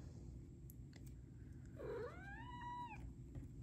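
A domestic cat gives a single drawn-out meow with a rough start, close by and fairly quiet against a faint steady background hiss.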